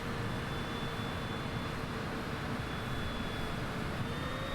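An airliner taxiing at Newark in Microsoft Flight Simulator 2020 gives a steady, broad engine roar with a faint high whine held throughout, constant in level and heard alone.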